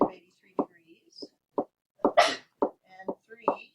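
A single sharp sneeze in a classroom during a pre-calculus lesson, brief and fairly close, breaking into a teacher's ongoing talk.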